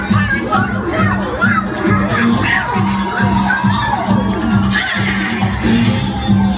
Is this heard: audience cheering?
yes